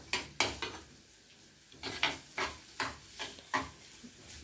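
Onions sautéing in a hot pan for a Tamil cauliflower kola urundai kurma, with about nine sharp spoon-against-pan scrapes and clanks in an uneven rhythm over a faint sizzle, close by.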